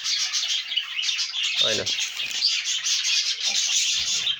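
Small birds chirp in a dense, continuous high twitter close by at a nest box, with a soft handling thump and a brief spoken word partway through.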